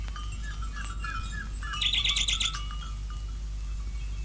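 A nightingale sings nearby, a run of clear repeated chirps followed by a rapid, bright trilling phrase over a low steady background hum.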